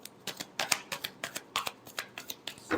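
Tarot cards are shuffled by hand at close range in a quick run of crisp, papery riffle bursts, about a dozen evenly spaced slaps with no talk over them.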